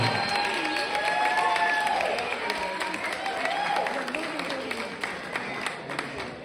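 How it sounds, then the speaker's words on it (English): Wedding guests applaud and cheer in a lively, steady burst of clapping, with whoops and voices rising over the crowd throughout. "How about a big round of applause for Sheena's parents, Dennis and Lynn."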